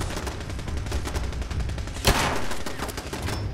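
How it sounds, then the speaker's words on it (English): A Mark V turret in a video game fires incendiary rounds in rapid continuous bursts, the rattling fire dense and loud throughout, with one sharper blast standing out midway. "Mark V shoots incendiary"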